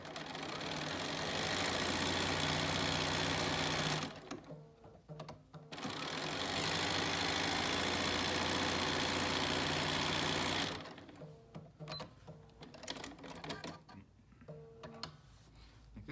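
A sewing machine runs in two long bursts of steady, close stitching along a quilt strip, with short pauses and light handling clicks between runs and after the second burst.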